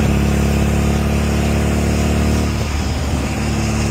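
A kit car engine drones steadily as the car drives along Virginia back roads. The sound is loud and close, with a continuous harmonic hum that eases and dips slightly near the end as the throttle changes.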